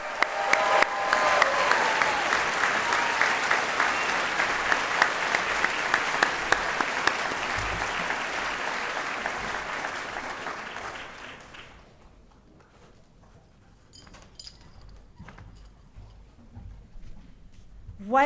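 Graduation ceremony applause for chemical and biomolecular engineering PhD recipients and graduates, a loud sustained crowd clapping for about eleven seconds before fading out, followed by a quiet hall with faint scattered sounds.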